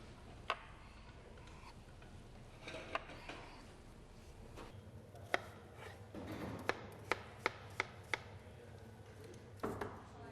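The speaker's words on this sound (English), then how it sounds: "Some nice sections of the fish being sliced thin." A chef slices cod thin with a knife, giving a string of crisp knife taps on a board, some isolated and some in a quick run of evenly spaced strokes, over a faint kitchen room hum.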